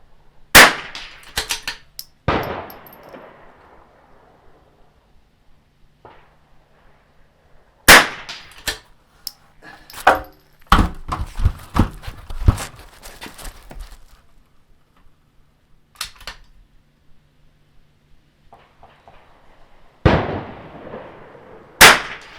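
.22 rifle shots at steel targets during a range match, several sharp cracks spaced irregularly, some followed by quick clusters of smaller impacts and clanks, with quiet gaps between.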